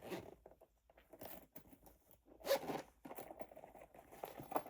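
A zipper on a Little Mermaid bag being worked in several quick, close scratchy pulls with pauses between them, no talking.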